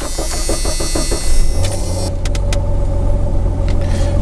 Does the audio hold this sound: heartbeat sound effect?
no